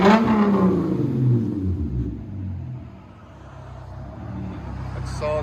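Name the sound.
Hyundai Genesis Coupe 3.8 engine revving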